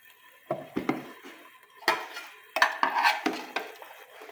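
A spoon stirs chicken lasagne soup in a pot, making irregular close clanks and scrapes against the metal in short bursts.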